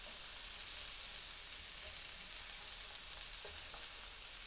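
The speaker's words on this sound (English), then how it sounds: "thin layer of onions, so we have all the pieces touching the frying pan" A thin layer of chopped onions fries in a pan for Polish goulash, giving a steady, dense sizzle with faint crackles and no voices.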